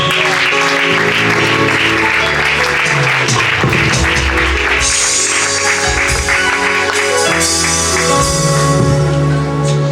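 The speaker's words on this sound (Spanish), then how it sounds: "¿Qué les parece si le damos un aplauso al Señor?" A church congregation applauds during a Spanish-language sermon, steady dense clapping over sustained organ or keyboard tones that fill the full ten seconds.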